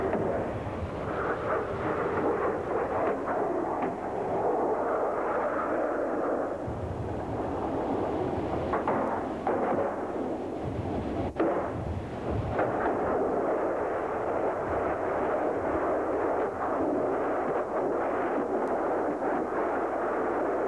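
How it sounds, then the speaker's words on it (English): Explosion of a missile hitting a tank carrying ordnance, a sustained heavy rumbling roar with rolling secondary blasts and crackles that persists loudly for about twenty seconds. "The result of a hit on a tank carrying ordnance can be horrifying."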